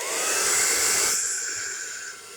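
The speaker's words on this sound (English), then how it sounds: "Wow, it's a powerful hair dryer." A Tresemme Salon Smooth Professional hair dryer blows with a loud airy whoosh up close, then shifts partway through to a quieter, lower setting that keeps running.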